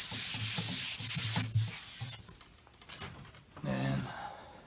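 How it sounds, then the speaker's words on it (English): Brisk rubbing strokes of light sanding with 320-grit sandpaper on a water-damaged antique tabletop, fast back-and-forth scratching for about two seconds, followed by softer rustling and a brief low hum. "just take some 320, give it a light sanding"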